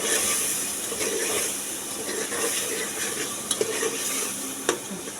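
Spices with Kashmiri red chili and salt, alongside potatoes, fry in a pan with a dense, hissing sizzle throughout, broken by a few sharp clinks of a utensil near the end; no speech.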